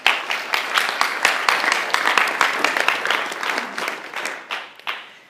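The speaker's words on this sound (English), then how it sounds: "If everybody could just give Dr. Chad a round of applause" Audience applause welcoming a nutrition and exercise speaker onstage at a summer fitness finale, dense clapping that rises quickly and holds steady for about five seconds, then thins toward the end with a few stray claps.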